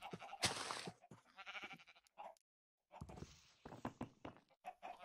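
Sheep bleat from a pen of farm animals in Minecraft, several short bleats in two bursts separated by a brief silence, fairly close and clear with no talking.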